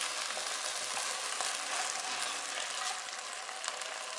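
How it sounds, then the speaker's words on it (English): Canned peeled tomatoes go into a pan over high heat for baked beans, giving a steady, close, loud sizzle and frying hiss that runs without a break and with no talk. "what I'm going to add now is one can of peeled tomatoes"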